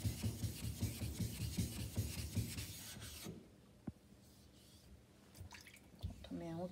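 A Japanese hand plane (kanna) blade rubbed back and forth on a whetstone makes steady rhythmic scraping strokes for about three seconds, then stops, leaving a quieter stretch with a few faint taps and scrapes.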